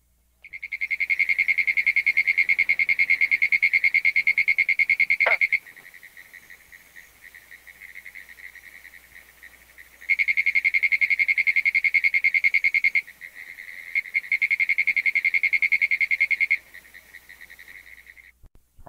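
Pinewoods tree frog (Hyla femoralis) calling in a loud, steady rapid trill, broken into several long bursts separated by brief quieter gaps, with faint background insects; no talking.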